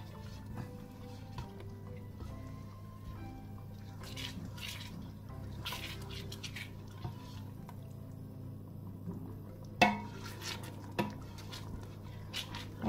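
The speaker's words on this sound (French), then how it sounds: "Voilà, ça repart déjà en ébullition." Peach jam bubbles back to a boil in a pot, soft scattered pops and gurgles over a low steady hum, fairly quiet, with a few sharper plops near the end.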